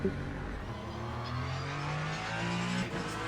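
A Ferrari 499P race car in the Le Mans Ultimate sim racing game, driving at Fuji, runs its engine steadily with a climbing drone under faint road noise, never stopping and with no one speaking.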